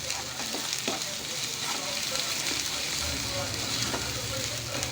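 A paste of ginger, garlic, onion and tomato sautéing in oil for chicken masala, giving a dense, steady close sizzle with faint scraping stirs, loud and continuous without talk.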